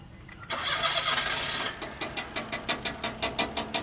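A car engine with a fault cranks and tries to start up close: a burst of loud whirring noise, then a steady run of quick rhythmic chugging pulses.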